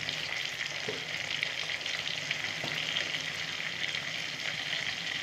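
Ground cumin and coriander frying into a masala in a pan for a Bengali vegetarian cabbage dish, giving a steady, close, even sizzle with faint stirring scrapes and no talk.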